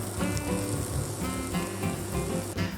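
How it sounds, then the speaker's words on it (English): Vegetables and onion sweating in a pan for palabok give off a steady, moderate sizzle with soft crackles throughout, continuous and fairly close, with no talking. "We want to sweat all the vegetables to intensify more their taste"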